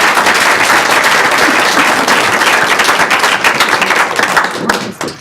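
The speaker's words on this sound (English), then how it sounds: "Please join me in applauding our expert panel." Audience at a veterans' roundtable on PTSD legal issues applauds the expert panel, dense sustained clapping from a room full of people that tapers off with a few last claps.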